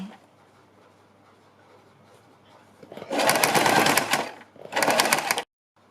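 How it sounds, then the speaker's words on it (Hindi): Sewing machine stitching a strip onto a kurti neckline: two loud close bursts of rapid needle clatter after a quiet start, separated by a short pause. "तब इसके ऊपर हमें सिलाई लगानी है"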